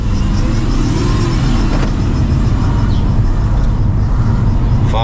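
A Mercedes C-Class W203 fitted with an M273 V8 engine drives off, a loud, constant deep engine rumble heard from inside the car, with a faint whine riding over it.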